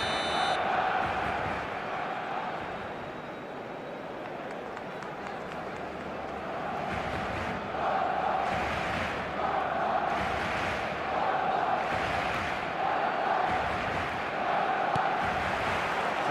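A stadium crowd in the football video game eFootball 2026 roars steadily for the whole stretch, with surges and chant-like swells and a sustained tonal hum running beneath.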